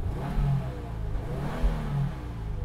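A 2022 Subaru WRX turbocharged sport sedan engine revs up and settles, rising twice in deep, throaty surges heard from close by, with no talking.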